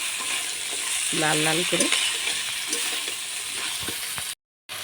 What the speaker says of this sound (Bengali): কাঁকড়াগুলো ভালো করে ভেজে নেবো